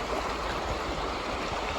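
Shallow, low-flowing water of the east branch of the Pemigewasset River in the White Mountains, a steady broadband rush and gurgle heard up close and continuous, with no voices.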